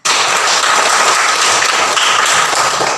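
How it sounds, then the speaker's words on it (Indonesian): A classroom group claps together in sustained, dense applause, steady and loud throughout with no voices over it. "Tepuk tangan dulu buat kita semuanya"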